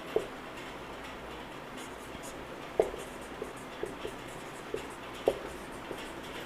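A teacher writing examples on a board in a classroom, giving soft sporadic taps and light scratchy strokes over a quiet room hiss, faint and close, with no speech.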